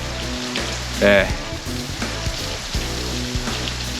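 Heavy rain pours down outside a 21-year-old caravan, a dense steady hiss of drops drumming on surfaces beneath a low droning hum, with a person briefly speaking close by.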